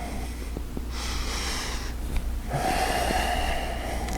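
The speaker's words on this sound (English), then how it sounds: "And take 3 more breaths." Slow, deep breaths during a yoga pose: a long, airy inhale, a brief pause, then a longer rushing exhale, close and steady with no talking.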